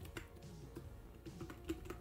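Keys clatter on a computer keyboard as a name is typed into a text box, a quick run of close, crisp taps at an uneven rhythm with no talking.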